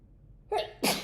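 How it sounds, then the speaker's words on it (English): A single sneeze: a short sharp intake followed by a loud explosive burst, heard alone in a quiet room. "Hold on, I gotta sneeze."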